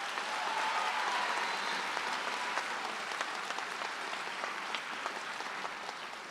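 A large crowd at a high school graduation ceremony claps continuously, a broad, even wall of many hands that holds steady for several seconds with a few sharper individual claps standing out.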